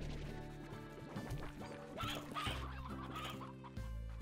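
Hens cluck in the video game Slime Rancher, a busy run of short, repeated clucks and squawks from several birds layered over steady game background music, with no one talking.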